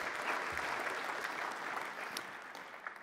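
Steady applause from a conference audience, a dense wash of many hands clapping continuously for the full stretch, fairly loud and without voices on top.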